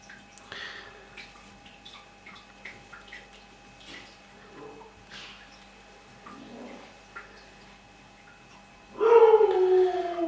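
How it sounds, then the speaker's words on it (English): Husky dog indoors giving scattered soft yaps and whines across the clip, then breaking into a loud, sustained howl near the end. "the background voice you're hearing right now is my husky"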